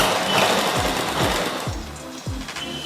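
Domestic sewing machine stitching the back neck of a blouse, a steady close whir with a few rhythmic thumps of the mechanism, loud and continuous with no talking.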